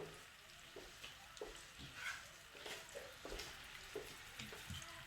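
Cherry tomatoes fry in a hot tharka for dal, a soft, steady sizzle with small pops and crackles scattered through it, quiet and close, with no voices.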